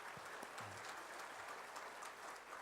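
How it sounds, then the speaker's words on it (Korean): A Korean church congregation on a Sunday service applauds to bless a retired pastor, a faint, steady spread of clapping heard from a distance with low murmurs beneath. "우리 박수로 축복해 주시기 바랍니다"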